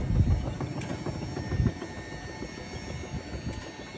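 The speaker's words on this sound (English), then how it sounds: "Vulcan sorting systems. Incline conveyor, 24 inch belt." A Vulcan incline conveyor with a 24 inch belt, driven by a three horsepower three phase electric motor, runs in a steady low mechanical drone with a few soft knocks, continuous and moderately close.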